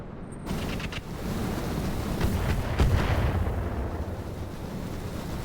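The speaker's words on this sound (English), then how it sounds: "And there's artillery." Heavy artillery shells pound away in the BattleTech mod RogueTech, a steady rumble of distant booms with one louder blast standing out near the middle, under a continuous low roar of battle.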